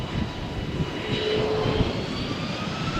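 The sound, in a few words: aircraft making a rolling takeoff at Malaga Airport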